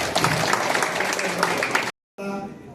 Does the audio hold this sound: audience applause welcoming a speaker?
yes